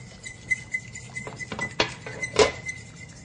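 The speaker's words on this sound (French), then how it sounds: "Juste pour finir la sauce, moi ce que je vais faire, c'est que je vais la monter au beurre." Butter being whisked into a pan sauce for duck à l'orange, with quick clinking and scraping of a utensil against the pan in a short close burst.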